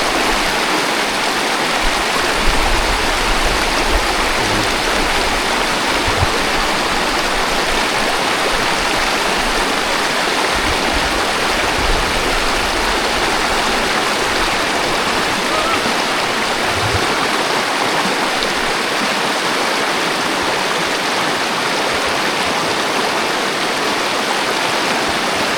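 A deep river with a strong current rushes continuously along a rough trail where horses are crossing, a loud, dense wash of turbulent water filling the whole clip with no talk heard.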